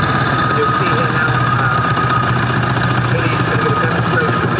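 A red steam car with a boiler under the front and a twin-cylinder engine at the back runs with a steady, loud mechanical chugging and rumble under broadband hiss, continuous throughout, with some voice-like sound mixed in.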